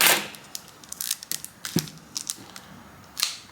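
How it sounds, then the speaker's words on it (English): Tightly wrapped crinkly plastic being pulled and torn off a notebook journal, with sharp crackles and rips in irregular bursts, close up and fairly loud. "So I'm gonna first take off the plastic here."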